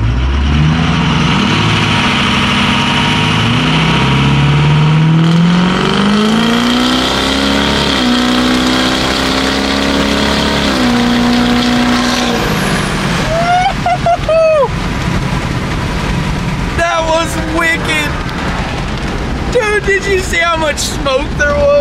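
Diesel pickup truck with a non-VGT 6.0 Powerstroke engine accelerating at three-quarter throttle from 10 mph, a loud rising engine roar climbing in pitch through several gear shifts, heard from inside the cab with voices speaking over it.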